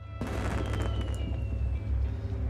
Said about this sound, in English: Ah, the fireworks.